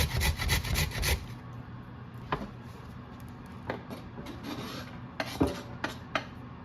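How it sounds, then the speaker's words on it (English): A carrot is rubbed against a grater in a quick run of close rasping strokes, then scattered softer scrapes and taps, with no talking. "I'm just going to grate up the carrot now."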